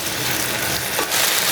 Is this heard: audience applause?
no